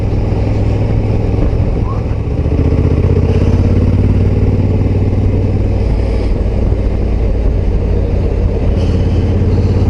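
A Honda Africa Twin Adventure Sports motorcycle engine drones loudly and steadily while riding, with a constant rumble and wind noise throughout.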